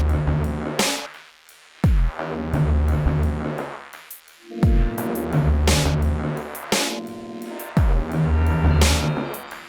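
Heavy electronic track: slow, pounding beats land every couple of seconds over a thick, dirty, rumbling bassline, loud and full.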